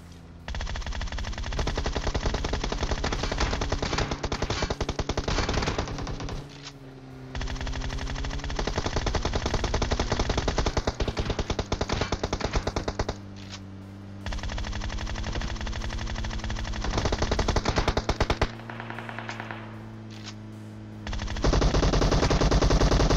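Sustained bursts of rapid automatic gunfire from PUBG Mobile, loud and continuous, with short pauses between volleys.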